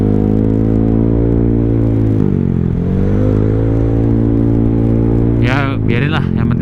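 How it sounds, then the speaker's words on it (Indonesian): Honda Vario motorcycle engine idling high and steady with its IACV sensor unplugged, a close, loud, continuous hum that shifts pitch slightly. A person speaks briefly near the end. "Tapi jadinya langsam gue tinggi banget kalau begini."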